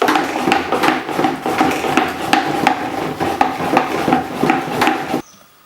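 Mash is stirred hard with a paddle through the lid hole of a Grainfather brewer, making quick, regular knocking clunks at close range. The knocks stop abruptly near the end, leaving near-silence.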